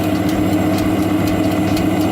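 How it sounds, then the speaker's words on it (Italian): A De'Longhi mini oven runs its convection fan after repair, giving a steady, close mechanical hum with a faint rhythmic whir and regular soft ticks, unbroken throughout. "Proviamo anche la funzione ventola."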